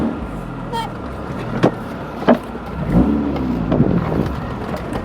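MG F sports car out on a test run, its engine droning steadily from inside the cabin with a few sharp knocks and thumps over the road, fairly loud and close, no voices.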